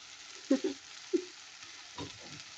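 Garlic fries in a pan for chicken sambusa, sizzling with a soft steady crackle while a few spoon stirs and scrapes bump against the pan up close.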